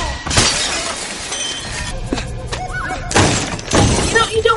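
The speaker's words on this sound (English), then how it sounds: "Here he's crashing through another window!" Glass window smashing in a film, with two loud bursts of shattering glass and thuds amid action sounds.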